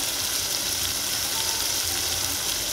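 Garam masala with turmeric and coriander powder roasting in a pan for shev bhaji, a steady, even sizzle and hiss that holds close and moderately loud without a break.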